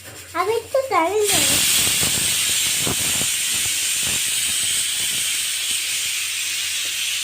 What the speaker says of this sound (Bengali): তেল ছিটছে